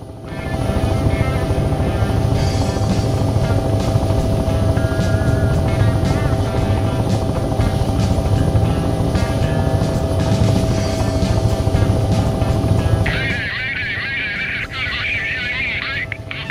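A helicopter fitted with a searchlight flies in the video game Take On Helicopters, its rotor and engine drone loud and continuous before the tone shifts near the end.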